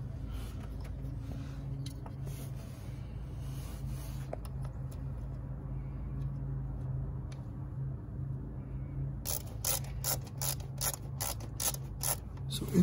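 A Phillips screwdriver turned by hand on a screw while fitting the mass airflow sensor on a Honda CR-V, soft clicking and ratchet-like ticks, then a quieter pause and a run of sharper close clicks near the end.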